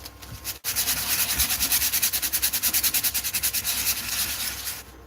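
Steady rhythmic sanding of wood, a close scratchy rasp that pulses back and forth in even strokes after a brief pause, with no talking over it.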